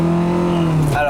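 A car passing by close and loud, its steady engine tone dropping sharply in pitch near the end as it goes past.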